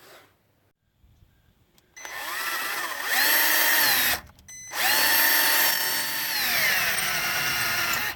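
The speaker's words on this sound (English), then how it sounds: "All right, I got it drilled out." A power drill bores out a broken caliper bolt on a Jeep XJ, whining loudly and steadily with pitch dips under load, briefly stopping, then restarting and running on close by.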